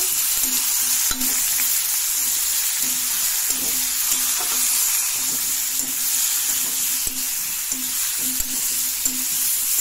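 Ground cumin sizzling in hot oil in a pan while cooking a potato and fish curry, a steady close frying hiss with occasional light stirring scrapes.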